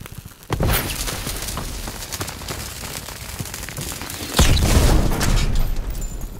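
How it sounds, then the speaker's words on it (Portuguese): A loud, deep video game explosion in Call of Duty WWII, followed by a sustained rumbling roar, then a second heavier blast rolls in near the end. "Cuidado, explosão!"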